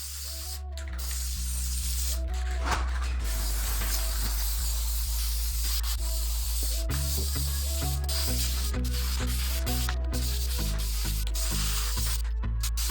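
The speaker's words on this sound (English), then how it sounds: "So we're gonna spray about 6 to 8 inches away and overlap it." Adhesive is sprayed from a can onto a car headliner in a series of hissing bursts, some short and some long, with brief pauses between passes. The hiss is close, fairly steady and heard alone.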